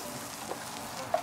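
Halved garlic head and onions sizzling in oil on a grill, a steady soft crackle with a faint short clink near the end, close and low in level.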